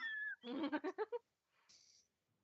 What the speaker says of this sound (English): I heard the Morty's cat.